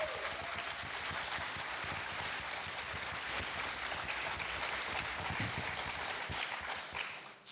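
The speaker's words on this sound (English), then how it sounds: "I want a huge round of applause for these folks." Conference audience applauding on-site volunteers at a Python event's closing session, a dense, steady wash of many hands clapping at full strength for about seven seconds before tapering off at the end.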